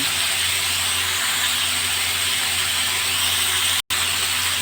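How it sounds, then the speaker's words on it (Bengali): Tomatoes hit a hot pan over a raised gas flame, giving a loud, steady sizzle and hiss with a low burner rumble, broken by one sudden instant of silence near the end. "গ্যাসের ফ্লেমটা এখন বাড়িয়ে দিলাম টমেটোগুলো দিয়ে দিলাম"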